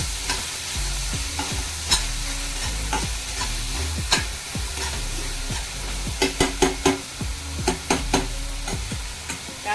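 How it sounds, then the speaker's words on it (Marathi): Chopped onion fries in a hot pan of oil with bloomed cumin seeds, a steady close sizzle broken by repeated clicks and scrapes of a spatula stirring it. "कांदा चांगला लाल होऊन द्यायचा."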